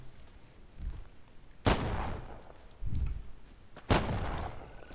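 Gunfire in the video game Deadside: three loud, sharp shots spaced about a second apart, each with a long rumbling tail, over quieter background ambience and no voices.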